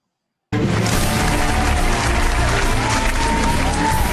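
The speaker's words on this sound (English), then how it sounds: "Please, one more round of applause for Mr. Rex Bugalao" At an evening leaders' gathering, a crowd breaks into loud, dense applause after a brief silence. The clapping holds steady and continuous to the end, with voices faintly mixed in.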